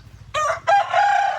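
A tied-up chicken crows loudly and close by, two harmonic bursts with a short break between them, over a low rhythmic background hum.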